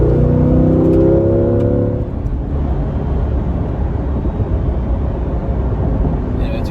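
A Chevrolet Corvette C8 engine revs loudly at close range for about two seconds, its tone sweeping upward before dropping into a steady low rumble that fills the rest of the clip.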